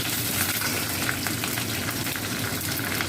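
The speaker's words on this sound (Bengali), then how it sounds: "সর্ষে দিলাম, সর্ষেটা ফোড়নে দিলাম, কারি পাতাটা দিলাম, কাঁচা লঙ্কাটা দিলাম।" Mustard seeds, curry leaves and green chilli crackle and sizzle in hot oil in a kadai, a steady, dense frying hiss that stays close and even throughout with no voices.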